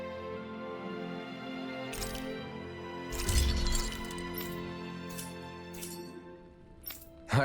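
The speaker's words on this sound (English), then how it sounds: "I always love the sound of hammers banging away." Metallic hammer blows ring out in a video game, sharp clinks and cracks landing irregularly over a steady droning backdrop, with a heavier cluster of strikes midway and a loud hit at the end.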